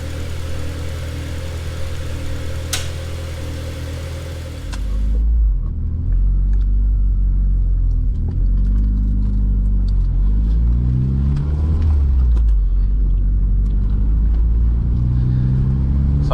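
A Honda Jazz track car starts up and settles into a deep, steady idle rumble with a few light revs, loud and close after a quieter stretch of background hum.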